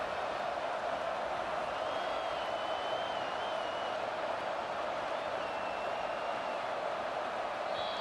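A college football stadium crowd at a game against Pitt roars steadily and loudly, a dense sustained wall of cheering noise with no break, loud enough to cause a false start.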